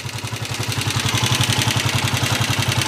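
A motor idles steadily with a fast, even chug and a faint rattling clatter, running close by with no one talking.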